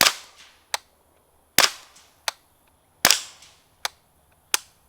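Suppressed FN Five-seveN Mk3 pistol firing subsonic SB-198 5.7 rounds into a dirt berm: five sharp cracks at an uneven pace, each followed by a short decaying tail, with a fainter impact thump after some of them.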